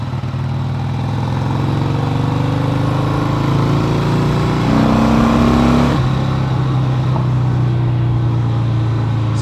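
A motorcycle ridden on the road, its engine a steady loud drone that rises in pitch for a brief rev midway before settling back, with no talking.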